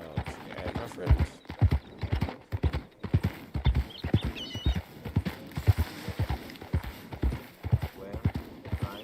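Rhythmic hoofbeats clip-clop steadily at a trot in the video game Red Dead Redemption 2 Online, with a horse's whinny breaking in partway through, loud and close.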